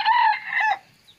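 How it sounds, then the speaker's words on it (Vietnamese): A Thai Long rooster gives a single short crow, close and clear, fading out in about a second with no talk. "Mùa này gà Thái Long nhiều nên độ gáy của nó không được căng mấy."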